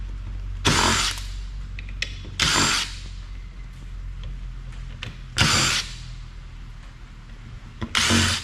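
A powered Torx driver zips screws out of a high-grade hard drive circuit board in four short, loud, close whirring bursts separated by quieter pauses with small handling clicks.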